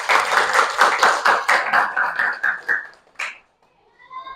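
A classroom group applauds after a training-course presentation, a burst of brisk, steady clapping that thins out and stops after about three seconds, followed by quiet and faint room sound.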